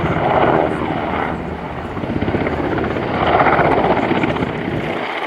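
NH90 TTH military transport helicopter of the German Army flying a display at RIAT 2024, a steady loud rotor thump and turbine roar that swells and fades slightly as it passes, with no talk.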